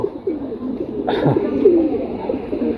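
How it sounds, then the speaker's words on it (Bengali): A female pigeon, one of a breeding pair, gives a short series of soft, throaty coos close by, with a brief flutter or scuffle midway. "এই হচ্ছে মাদি ঠিক আছে এটা হচ্ছে মাদি কবুতর"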